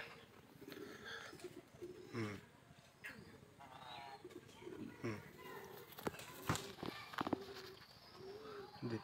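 A Lahori pigeon gives soft, repeated coos close by while a person talks over it, with some light shuffling in the background.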